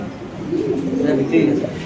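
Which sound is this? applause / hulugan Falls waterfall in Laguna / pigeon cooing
pigeon cooing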